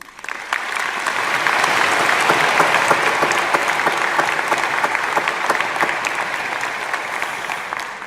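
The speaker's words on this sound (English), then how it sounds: "please give Dr. Leroy Hood, now a member of the UBC family, a round of applause" A university audience at a UBC Vancouver spring 2018 ceremony gives a speaker a round of applause, a loud, sustained, even roar of many clapping hands that swells quickly and holds steady.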